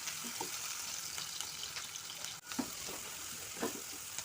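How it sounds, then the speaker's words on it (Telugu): Onions and tomatoes frying in a pan for fish curry, a soft, steady sizzle with occasional light stirring scrapes, fairly quiet and without talk. "ఒక 4 పచ్చిమిర్చి, కొంచెం ఆనియన్స్ ఫ్రై అయినాక టొమాటోస్ వేసుకుందాం"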